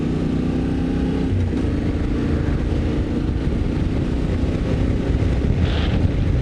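A Yamaha Tenere 700 motorcycle with an Akrapovic exhaust, its engine droning steadily while riding, heavily mixed with rushing wind noise on the microphone.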